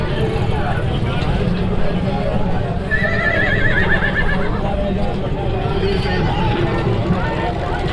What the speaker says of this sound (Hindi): घोड़ी दिखाना है।